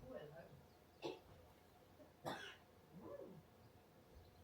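Two or three short, faint coughs sound some distance off inside a quiet room, separated by pauses of about a second.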